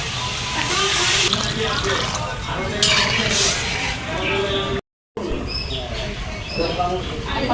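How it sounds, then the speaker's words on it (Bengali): Water is poured into a fish curry in a pan, a loud close splashing gush with clattering of the pan, while a voice talks over it; a short gap cuts the sound midway. "আমি এখন তরকারিতে পানি দিয়ে দিব"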